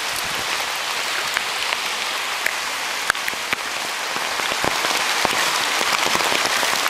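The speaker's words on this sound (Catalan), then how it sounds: "que plou tant" Heavy rain pouring steadily onto surfaces outdoors, a dense continuous hiss with scattered sharper drops and splatters throughout.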